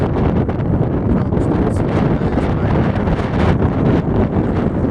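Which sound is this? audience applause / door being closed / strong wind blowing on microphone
strong wind blowing on microphone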